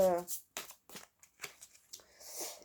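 Oracle cards being shuffled by hand before one is drawn, a few quick papery riffling bursts, close and brief, alternating with someone speaking French.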